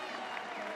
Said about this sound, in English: He's getting a nice applause